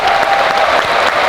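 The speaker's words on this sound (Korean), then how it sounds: "챔피언이 된 탱크 선수께 큰 박수 부탁드리겠습니다" A crowd at a Black Combat fight event applauds the newly crowned champion fighter Tank. The clapping is loud, dense and close, filling the short moment without talk.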